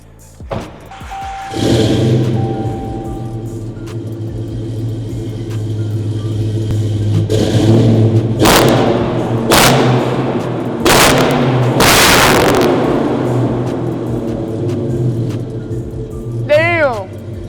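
A supercharged V8 engine of an 800 hp Dodge Challenger SRT Hellcat rumbles steadily at close range, then roars through several sharp, loud revs before settling back to a deep idle.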